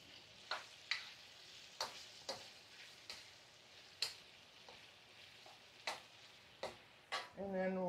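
Shrimp and pork belly chow mein is stirred in a pan, with a faint steady sizzle under regular utensil scrapes and taps, about one every second, close by and ending in a louder clatter.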